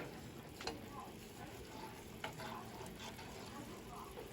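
Butter sizzles in a hot pan while steak alfredo noodles are being cooked, a faint, steady crackle and hiss with a couple of sharper clinks from a utensil.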